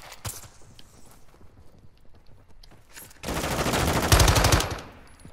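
Submachine gun fire in a first-person video game, a rapid full-auto burst lasting about two seconds after a single earlier shot, loud and close, with scattered footsteps and quiet game sounds before it.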